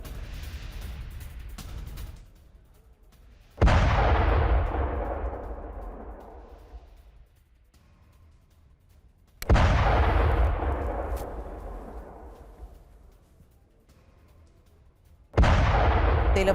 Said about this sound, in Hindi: रिहायशी इलाके में रॉकेट गिरा